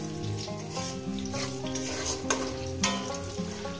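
Potatoes dropped into very hot oil fry in a pan with a loud, continuous sizzle, and a utensil stirs and scrapes through it with a couple of sharper clinks, up close and without talk.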